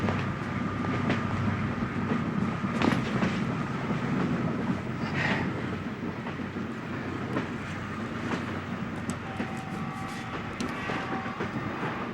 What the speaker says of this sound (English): Kaluga-Moscow passenger train will be departing from platform 2.